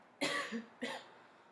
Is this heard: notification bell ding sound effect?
no